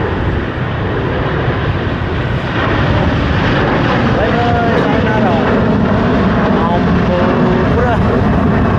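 A Cathay Pacific airliner takes off at Hong Kong International Airport, its engines a loud, sustained roar that swells and holds, heard from the aircraft maintenance area with a voice talking over it.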